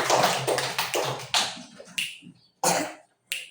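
A class claps and taps in a few short bursts separated by silent gaps. The sharp, close strikes come in irregular clusters rather than steady applause.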